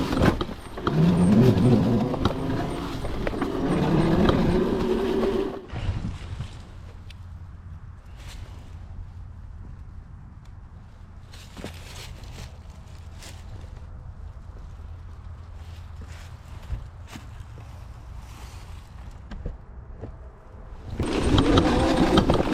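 A Razor MX3000 pit bike converted to 72V electric power bogs down on a dirt trail, its motor labouring with a low drone for most of the stretch, with louder rougher bursts at the start and end.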